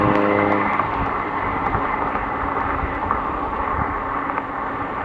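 Cars racing along a road, a steady loud engine roar and rumble that holds throughout, with no talking.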